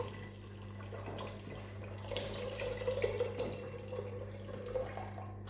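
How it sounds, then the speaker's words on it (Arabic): Chickpea cooking water pours steadily into a simmering chicken sauce for Algerian garlic chicken, a soft liquid splashing over a low constant hum, fairly faint and with no talking. "دوكا نمرق بالماء اللي طاب فيه الحمص."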